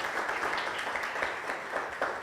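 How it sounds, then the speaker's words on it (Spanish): Congregation applause during a church sermon, a dense, even wash of many hands clapping together, steady and fairly loud without speech over it. "Le levanta palmas al que vive y reina por los siglos de los siglos."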